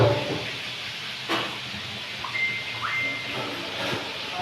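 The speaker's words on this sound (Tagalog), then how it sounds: "Prito muna." Tilapia fries in a pan in a home kitchen, giving a soft, steady sizzling hiss broken by a few sharp clicks and clatters.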